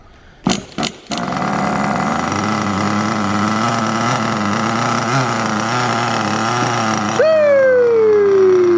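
Kyosho Inferno MP9 nitro RC car engine running in during break-in, opening with a few sharp blips, then a steady buzzing drone held close and loud, ending with a climbing whine as the revs rise.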